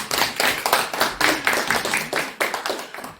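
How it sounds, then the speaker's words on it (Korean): An audience claps at a small stage talk event in a lively, slightly uneven patter of close hand claps that tapers off toward the end. "박수 한번 크게 주세요"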